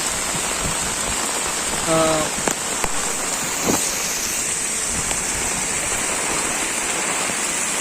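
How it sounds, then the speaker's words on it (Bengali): Heavy rain pours down while runoff spills off a road like a waterfall into a hole below, a dense continuous rushing hiss, loud and close, with a few faint knocks and a brief tone partway through. "ঝর্ণার মতো পানি নেমে যাচ্ছে রাস্তা থেকে"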